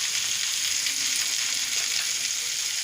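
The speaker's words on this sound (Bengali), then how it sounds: "মশলাগুলো সব একের পর এক অ্যাড করে দিলাম শুক্তোতে।" Spices sizzle and fry in hot oil in a pan while shukto curry is cooked, a steady bright hiss running evenly throughout with no voices.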